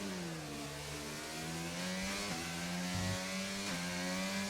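Throaty race car engine revving hard in a sim racing league event at Singapore, a steady loud drone with rising and falling harmonics and a brief dip near the middle, heard alone.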